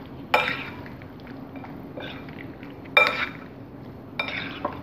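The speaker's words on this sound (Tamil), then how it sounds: "இந்த மாவு முட்டை மிக்ஸ்லாம் நல்லா ஒன்று சேர்கிற மாதிரி கலந்துக்கலாம்" Wet, clinking stirring sounds as chicken is mixed with a flour and egg batter in a bowl, with a few sharper scrapes of utensil against the dish.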